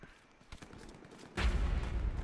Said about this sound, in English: I hear gunshot to our left.